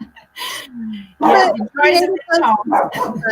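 A dog gives several loud, close barks and yips in quick succession, with a brief whimpering whine between them.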